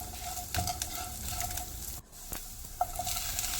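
Chopped green chillies hit a hot frying pan and sizzle with a dense, bright hiss, a few sharp crackles and a steady faint hum underneath.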